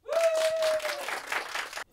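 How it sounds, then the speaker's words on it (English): Studio audience clapping in response to a comedy host's prompt, a short burst of applause with a whoop rising over it, stopping abruptly after under two seconds. "Clap if you have to do a self review."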